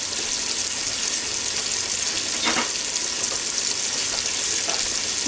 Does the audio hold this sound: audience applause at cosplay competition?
no